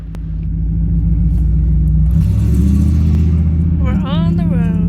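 A 1992 Firehawk Trans Am tribute build drives on the road, a loud, close low engine rumble rising and holding steady, with a voice speaking briefly near the end.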